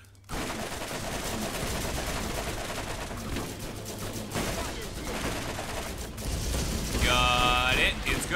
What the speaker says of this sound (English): Tossing down a turret.